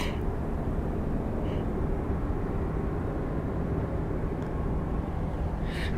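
An airliner on the Orlando flight at Phoenix Sky Harbor airport, a continuous low, rumbling jet drone that stays steady and fairly loud throughout, with a few faint higher clicks on top and no talking.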